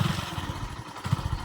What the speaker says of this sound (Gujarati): તો બાઇક ચાલુ કરીને નીકળીએ